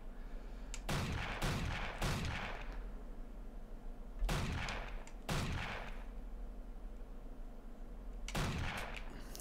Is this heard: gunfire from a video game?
yes